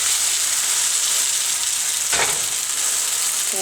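A Swedish pancake fries in a hot pan with a steady, close, even sizzle, broken briefly by a scraping touch in the middle.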